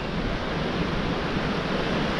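Strong wind and breaking waves roar steadily on the shore at Blue Anchor, a loud unbroken wash with wind buffeting the microphone.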